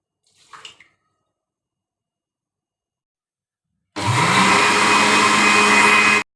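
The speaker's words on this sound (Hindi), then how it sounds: "अब इसको ग्राइंड कर लेंगे।" An electric grinder processes soaked poppy seeds (khus khus) for a kofta curry gravy. After a brief faint rattle and a silent pause, the motor starts abruptly with a loud, steady whirring grind that lasts about two seconds before cutting off.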